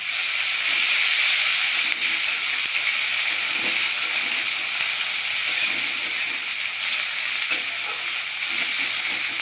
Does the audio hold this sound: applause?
no